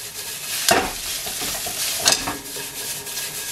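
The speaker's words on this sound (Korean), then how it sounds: "밥 아래에 간장을 붓는 게 아니라 프라이팬 한쪽에다가 간장을 섞은 다음에 간장이 조금 졸아들게." Onion fried rice with soy sauce is stir-fried in a frying pan, with a steady sizzle broken by two sharp scraping stirs of the spatula, close and clear.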